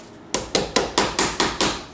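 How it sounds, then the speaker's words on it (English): Sharp, steady hammer blows drive a battery cable terminal onto a post in a Toyota RAV4. There are six close strikes, evenly spaced, each ringing briefly before the next. No voices are heard. "and then I hammer carefully"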